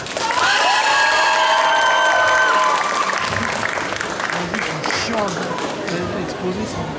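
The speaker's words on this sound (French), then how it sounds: "Vous pouvez encore applaudir un petit coup" At a cosplay contest, a crowd claps and cheers loudly, with whistles and shouts over dense applause early on, then settling into lively crowd chatter and scattered voices.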